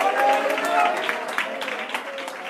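Audience members at a Bible convention clap in scattered, quick bursts that pick up partway through, mixed beneath a preacher's amplified voice.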